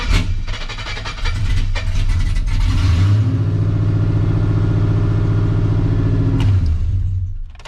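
Chevrolet Silverado with a newly installed Walbro 450 fuel pump cranks with a brief starter chatter, then catches and roars to life, holding a loud steady idle-rev before cutting off near the end.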